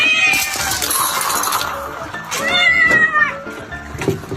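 A domestic cat meows several times in a strained, drawn-out way, loud and close over a busy indoor background with a little talk mixed in.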